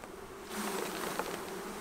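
Honey bees buzz densely around a hive frame with emerging brood, a close, continuous drone that swells halfway through and holds steady, with no voices.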